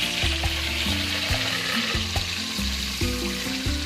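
Marinated pork frying in a covered pan, a dense continuous sizzle and crackle with low bubbling pops underneath, loud and close, without a break.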